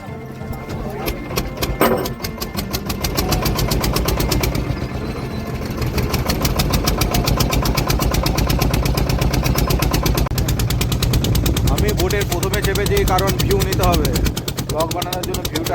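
A boat engine at Mukutmanipur Dam starts and runs with a loud, steady rapid chugging that dominates throughout, while people talk nearby.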